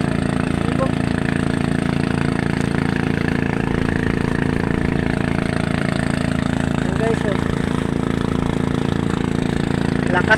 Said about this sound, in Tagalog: Lakas ng makina ng towing ko ay oh